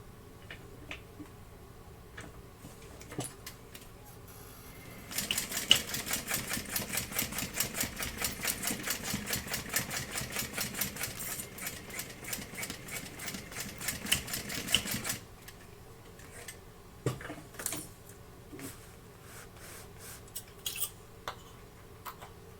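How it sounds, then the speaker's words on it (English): A sewing machine runs a 3/8 inch seam on a handmade pack, a rapid even mechanical clatter lasting about ten seconds, framed by quiet handling noises and small clicks before and after. "we're going to sew that together at a 3/8 inch seam allowance"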